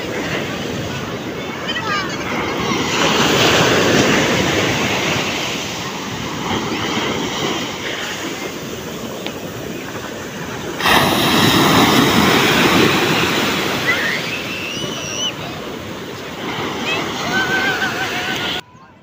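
Sea waves wash onto a beach at San Felipe, Zambales, in loud, continuous surf with heavy wind buffeting the microphone and a surge near the middle.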